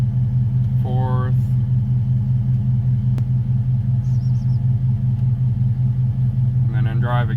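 A car engine idles steadily with a deep constant rumble while its automatic transmission is shifted through the gears in manual mode, close and loud, with a voice talking briefly twice over it.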